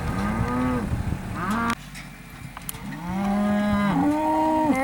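Big farm cows near a tractor putting out hay, several loud, close drawn-out moos overlapping one another, with a brief quieter gap in the middle before more bellowing resumes; no talking.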